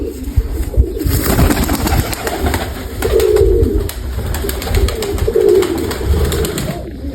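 Pigeons in a loft, young and old white birds of a Mykolaiv breed, giving low, soft cooing calls that swell in two clear bursts over a steady background of bird rustling and faint chatter.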